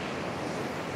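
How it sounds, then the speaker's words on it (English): Ocean surf crashing against rocks at Burleigh Heads gives a continuous broad wash of roaring water, loud and close for a brief moment with no voices. "Just waiting for some waves to crash in"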